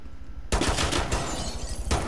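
Maverick opens fire in Rainbow Six Siege, a sudden burst of rapid automatic gunfire that keeps going loudly for over a second and a half.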